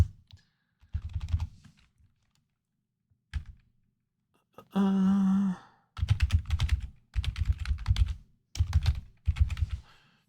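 Bursts of computer keyboard typing arrive in several rapid clusters, close and crisp, with a loud sigh-like exhale between them and brief low murmurs earlier.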